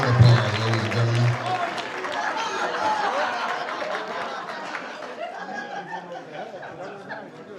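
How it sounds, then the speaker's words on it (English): Wedding guests clap and chatter after a toast, with scattered laughter in the crowd; a voice speaks over the start, and the applause fades gradually over several seconds. "Let's give Mike a round of applause, ladies and gentlemen."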